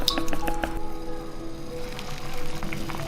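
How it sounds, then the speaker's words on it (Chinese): An egg is cracked and whisked in a bowl while making a sweet soup with ginger and glutinous rice balls, giving quick rhythmic squishy taps and clinks, close and fairly loud, with no talking. "这个时候我们来打一个鸡蛋，把鸡蛋打散"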